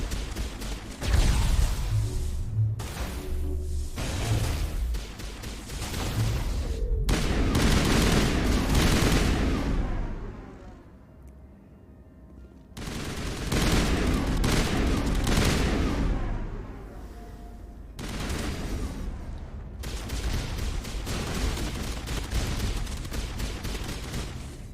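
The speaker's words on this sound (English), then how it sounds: "And we're like getting a million bullets here." Enemy gunfire in the Mass Effect game comes in heavy bursts of rapid shots with booming impacts, broken by short lulls. It is loud and close throughout, with no talking.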